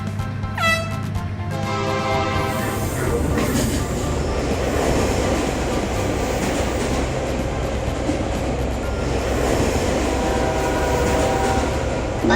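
Toy trains rush along the tracks of a train factory with a sustained rolling rumble and clatter, opening with a brief whistle-like tone, loud and close throughout, with no talk.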